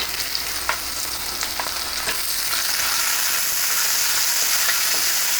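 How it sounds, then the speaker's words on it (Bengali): Onion paste sizzles steadily in hot oil with fried onions for hilsa fish malai curry, with occasional stirring clicks and scrapes as the frying hiss grows a little louder. "বাটা পেঁয়াজটাকেও আমি এই পেঁয়াজের সঙ্গে মিশিয়ে একটু ভেজে নেব"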